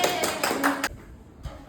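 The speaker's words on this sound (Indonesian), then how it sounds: "kita tepuk tangan kalau begini" Several hand claps from a small classroom group during a primary school reading lesson, a few sharp broadband bursts in quick succession, then a pause and one more faint clap.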